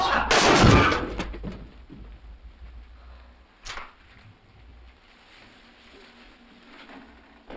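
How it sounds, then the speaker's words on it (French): Two sharp gunshots in a film ring out, a loud blast first and a weaker crack a few seconds later, then quiet background noise. "des coups de feu aussi"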